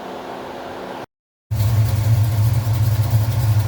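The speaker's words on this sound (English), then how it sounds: "All right, so here's the fan in action." A Flex-a-lite electric radiator fan runs alongside a car's idling engine on a hot day, a steady loud whirring hum with a low throbbing rumble, starting abruptly after a brief gap of silence.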